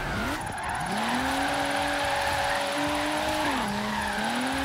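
A BMW M4 Liberty Walk drifting in Forza Horizon 3, its tires squealing in a long, steady, loud skid over a droning engine whose pitch dips and recovers partway through.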